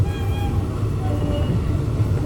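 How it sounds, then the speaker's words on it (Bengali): The Teesta Torsa Express passenger train stands at New Farakka Junction, with a steady loud rumble of the train and station around it and a few faint higher tones drifting over the noise. "এখন আমাদের এই তিস্তা তোরসা এক্সপ্রেস এসে দাঁড়িয়েছে নিউ ফারাক্কা জাংশনে"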